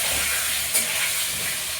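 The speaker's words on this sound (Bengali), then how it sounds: "লাল লাল ভাজা হোক আলুটা" Potatoes with salt and turmeric frying in a pan give a steady, close, loud sizzle and hiss that runs unbroken with no talk over it.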